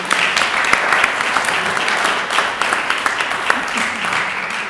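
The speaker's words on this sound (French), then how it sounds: "Jennifer de Martinique, que vous pouvez applaudir aussi, puisqu'elles nous écoutent." Audience applause at a conference on enterprise and innovation in the French overseas territories, a steady round of clapping from a seated crowd, moderately loud throughout with a little background speech.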